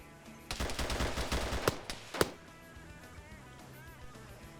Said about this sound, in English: It's more fire going back and forth.